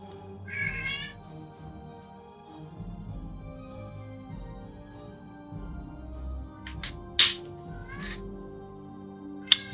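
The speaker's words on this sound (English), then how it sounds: "Yes, I hear you, cat." A cat meows several times, a few short close calls spaced across the stretch, over a low steady background hum with no talking.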